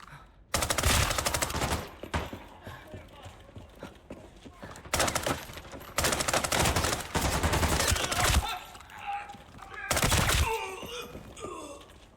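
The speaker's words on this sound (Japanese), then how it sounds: "銃声も聞こえ始めたのだ" Sustained bursts of rapid automatic gunfire rattle loudly in the shooter game Arena Breakout on the Northridge map, separated by short lulls, with a voice briefly heard in between.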